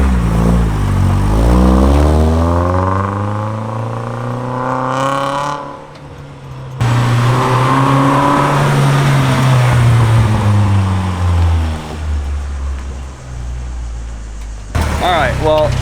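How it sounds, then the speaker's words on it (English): A Nissan S15's engine runs loudly and roughly, its pitch rising and falling in revs, with the air conditioning running, a whirring hum and talk mixed in. "engine bay sounds a little rough, but the AC's hitting"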